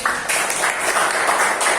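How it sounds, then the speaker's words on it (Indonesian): Brief applause from a group at a school gathering, an even wash of clapping lasting under two seconds, moderately loud and close. "Ada gak tepuk tangan untuk Bu Neni?"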